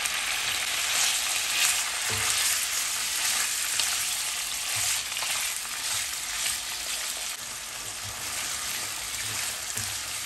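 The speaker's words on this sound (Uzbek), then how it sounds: "yog' yaxshi qizigandan keyin go'sht solib qovurishni boshlaymiz" Chunks of goulash meat fry in well-heated oil in a pan, giving a steady, close, dense sizzle that continues without pause, with a few faint low bumps from the pan.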